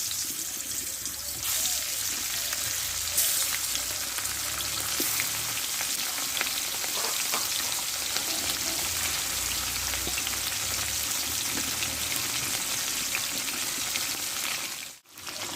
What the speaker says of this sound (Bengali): তেলটা গরম করে নিয়েছি মাছগুলো দিয়ে দেবো